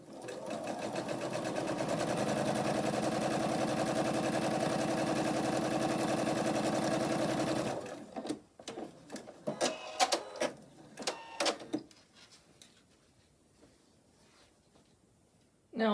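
A domestic sewing machine runs in one steady burst for about eight seconds, stitching quilt block pieces along a drawn line, then stops, followed by faint handling clicks and rustles of fabric.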